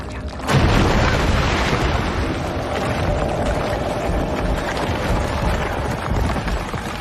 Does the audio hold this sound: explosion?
yes